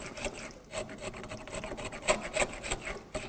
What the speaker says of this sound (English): I'm going to take a knife wall right in the cut in the corner like this